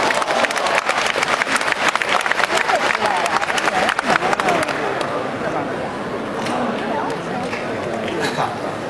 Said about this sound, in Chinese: 谢谢大伙儿的掌声鼓励